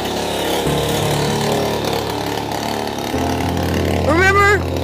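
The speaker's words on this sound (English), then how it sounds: "New engine, it's running." A new 49cc high-performance small engine idles with a steady buzzing drone. The pitch shifts a couple of times, and near the end there is a brief rising rev.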